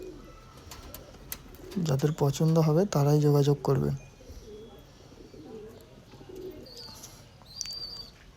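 Andhra Lalsira pigeons coo in a loft, a loud burst of throaty cooing with a few chirps standing out over ongoing talk.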